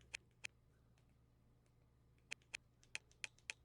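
Menu navigation clicks from a Fire TV Stick: seven faint, sharp ticks, two early and a quicker run of five near the end, over a low steady hum.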